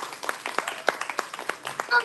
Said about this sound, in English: Please give our students one more round of applause.